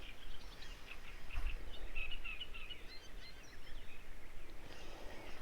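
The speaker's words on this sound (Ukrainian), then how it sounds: "пташки співають краса." Birds sing and chirp beside a river canyon on a fishing outing, scattered bright calls over a constant rushing wash of wind or water.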